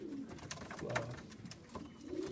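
Old-line Sion racing pigeons in a loft coo softly in repeated low, throaty calls, close by and fairly quiet, with a few faint clicks and rustles.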